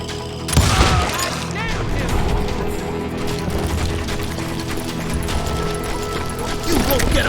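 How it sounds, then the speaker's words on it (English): Shotgun fire in the western shooter Call of Juarez: Gunslinger, a loud blast followed by dense, continuous gunfire and game action, with a voice speaking over the noise. "I was just glad I had Deputy Bob's mean-ass shotgun"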